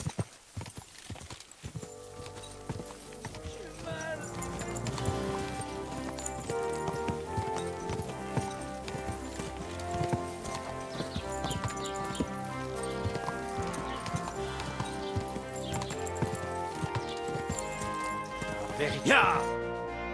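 Hooves clip-clop steadily as a horse is ridden in the video game Kingdom Come: Deliverance II, under a bed of game music, with a brief neigh near the end.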